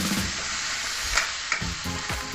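Chicken asado with calamansi and a splash of hot water sizzles steadily in a pan, with a few soft scraping stir strokes of a spoon against the pan bottom.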